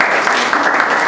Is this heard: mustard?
no